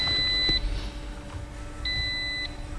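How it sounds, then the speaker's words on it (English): A car's warning chime beeps after the key is switched on, two clear high electronic tones a second or so apart over a low steady hum in a quiet workshop. "I'll wait for it to quit beeping here."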